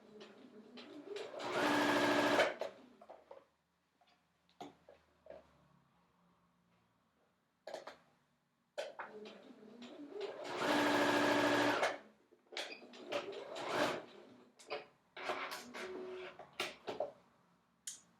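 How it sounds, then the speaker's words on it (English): A sewing machine is stitching a fabric glove bag a little at a time. There are two longer whirring runs and several short bursts, split by pauses with faint handling sounds, and no speech. "I'm just sewing a little bit at the time"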